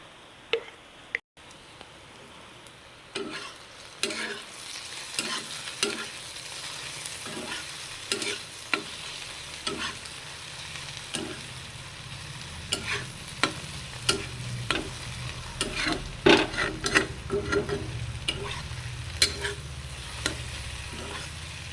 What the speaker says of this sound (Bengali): হালকা ভাজা হয়েছে আর একটু ভাজা হোক